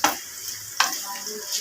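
Meat browning in a kadai sizzles and crackles, with a couple of sharp stirring scrapes against the pan at a steady close distance.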